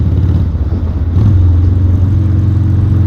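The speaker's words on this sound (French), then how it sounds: "T'as le gros bruit du 8 cylindres là. En plus, c'est là en échappement libre" A 1986 Harley-Davidson 883 motorcycle with open exhaust drones steadily and loudly, its deep engine rumble swelling and firming up a little past the one-second mark as it pulls.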